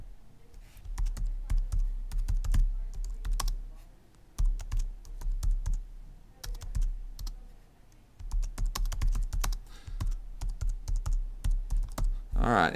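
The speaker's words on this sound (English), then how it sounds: "And so we're going to type that out." Computer keyboard typing while entering a text title in Keynote software, a quick run of close, crisp key clicks with short pauses between bursts and no talking.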